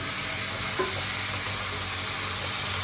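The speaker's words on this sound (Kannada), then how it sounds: "ಇವಾಗ ಟೊಮೊಟೊನು ಚೆನ್ನಾಗಿ ಫ್ರೈ ಮಾಡ್ಕೊಂಡು" Onions and tomatoes fry in a pan for tomato egg bhurji, giving a steady close sizzle with faint stirring, unbroken and even.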